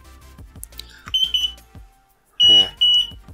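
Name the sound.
Arduino flood detector buzzer alarm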